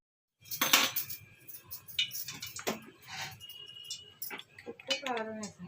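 A spoon scrapes and clinks against a metal bowl as a spiced mixture with salt, chili powder, turmeric, curry leaves, green chillies and cornflour is moved into a bigger bowl. The clatter comes in close, irregular bursts, and a faint voice is heard near the end.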